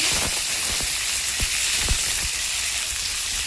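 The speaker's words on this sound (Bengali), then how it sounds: "তেলের ভিতরে আলু কাটা দিয়ে একটু ভেজে নেব" Cut potatoes fry in hot oil for biryani, a dense continuous sizzle heard up close with a few soft low thumps of stirring and no voices.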